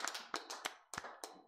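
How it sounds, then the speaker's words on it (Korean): A church congregation at a Sunday worship service in a Full Gospel church gives a few faint, sparse hand claps, spaced unevenly and quick, with no voices. "하나님께 영광의 박수 돌려드리겠습니다."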